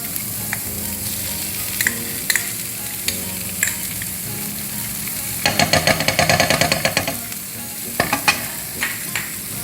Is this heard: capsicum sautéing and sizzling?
yes